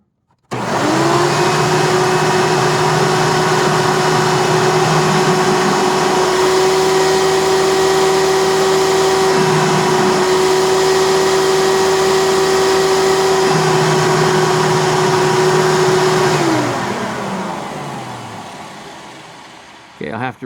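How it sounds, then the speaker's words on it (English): An old direct-air Hoover vacuum cleaner runs loud and steady at close range for about sixteen seconds, a constant whining hum that then winds down gradually as the motor is switched off. "Let's see what this direct air Hoover pulls on the vacuum gauge."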